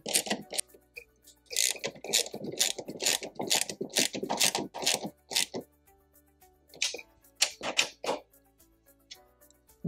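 A hand ratchet tightens tail light fasteners in a car install, quick bursts of sharp clicking in close, uneven runs separated by short pauses.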